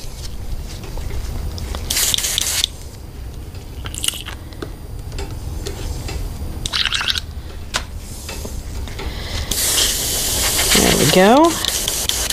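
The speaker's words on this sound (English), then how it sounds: "We're going to come back with a pearl white and just lightly coat the whole thing again" A paint spray gun hisses steadily, laying a light pearl white coat over a custom Big Game Customs Glide motorcycle, with short bursts and pauses, some nearby talking and a rising squeal near the end.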